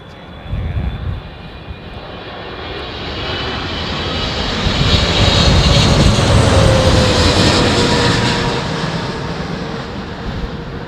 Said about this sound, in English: This looks like another either Qatar jet or Saudi Arabian.